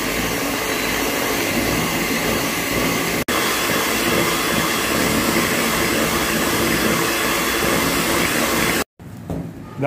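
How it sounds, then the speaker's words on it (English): An electric mixer beats chocolate frosting at slow speed with a continuous loud whirring drone. The motor cuts out for a moment near the end and then starts again. "Now I will beat it at a slow speed again till it is"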